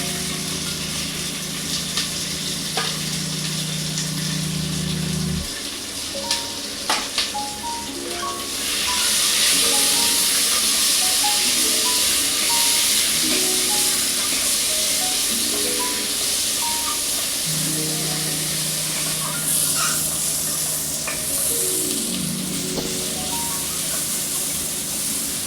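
Chopped onions frying in a pan for a light khichdi, giving a steady, fairly loud sizzling hiss that swells after the first few seconds, with soft melodic background music and no talking.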